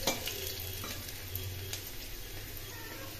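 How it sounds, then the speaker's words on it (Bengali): Onions frying in oil in a pan for a potato paneer curry, giving a steady, close sizzle with a few faint scrapes of stirring and no talk. "পেঁয়াজটা একটু লাল করে ভাজতে হবে"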